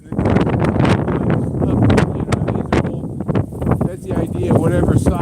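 Strong wind gusts buffet the microphone in heavy, irregular bursts of roaring noise, with someone talking over them.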